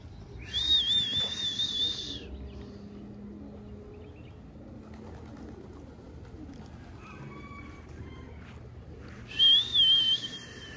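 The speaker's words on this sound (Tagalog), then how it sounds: "Matitindi ng mga ibon na to." A flock of racing pigeons in foggy conditions makes loud, clear whistling calls in two bursts, one near the start and one near the end, with a quieter outdoor background between them.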